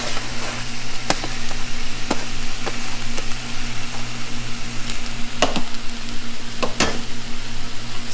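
Head cabbage frying in a wok for chow mein, a steady close sizzle with a few sharp clinks and scrapes of the utensil, no talking.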